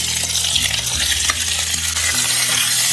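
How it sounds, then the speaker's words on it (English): Raw prawns hitting a hot, freshly oiled pan for a Venetian tomato-sauce dish, giving a steady, loud sizzle and frying crackle with stirring clatter throughout, no voices. "Now this pan is hot, and we're going to add the prawn."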